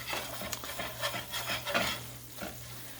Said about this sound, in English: I'm using the bottom of my spatula to kind of smash in and get that all incorporated in there good so we don't have any lumps